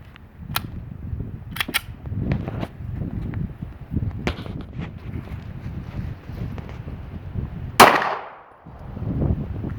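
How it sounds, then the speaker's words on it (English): A lightweight Walther PDP pistol with a 4.5-inch barrel is fired once outdoors, a single sharp, loud crack near the end after a few faint handling clicks over light wind. "But let's give my first shot and see how it feels"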